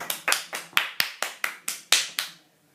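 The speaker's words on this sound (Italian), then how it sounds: "Un applauso. Un applauso." A small group claps in a slow, even rhythm, about nine distinct claps, close and clear, for a pizza being presented, with no talk over it.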